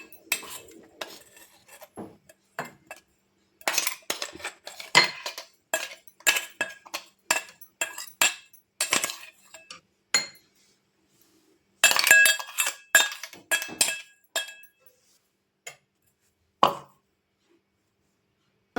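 A spoon clinks and scrapes against a mixer jar and dish as ground spice powder for tomato pickle is tipped out, in irregular bursts of metallic taps separated by silent pauses.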